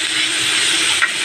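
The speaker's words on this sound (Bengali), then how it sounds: "এই যে উচ্ছে আলু ভাজা করছি, বসিয়ে দিয়েছি" Bitter gourd and potato fry with chopped garlic in a pan, giving a constant close steamy sizzle and hiss for a brief moment, with no talk.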